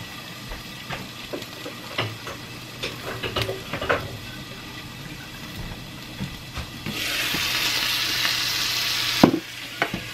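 Sauce poured into a hot pan for carne con papas en chile sizzles loudly, rising into a bright steady hiss after several seconds of stirring and scraping noises, with no talking.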